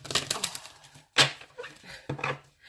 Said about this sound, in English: let's pull the Alice, the Wonderland cards, and I can't shuffle these. These are so big.